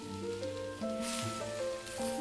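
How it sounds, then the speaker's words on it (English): Shrimp searing in a pan with ginger, lemongrass and onion give a soft, steady sizzle, partly masked by louder background music with sustained tones. "The shrimp will sear a little bit."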